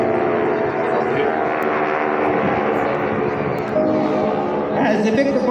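Aircraft engines drone steadily at the Jones Beach air show, a loud, continuous roar of airplanes performing overhead, with crowd chatter and an announcer's voice mixed underneath.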